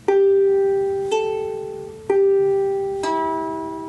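Four plucked open ukulele strings ring out one at a time at an even pace, each decaying slowly, clear and close with no voices.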